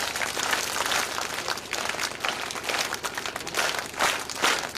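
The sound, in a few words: children clapping three times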